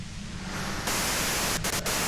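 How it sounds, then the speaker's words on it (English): Radio white-noise static from the video game Disco Elysium, a steady broadband hiss that swells louder partway through and holds with a couple of brief dips, alone with no voices. "you can do it through the white noise."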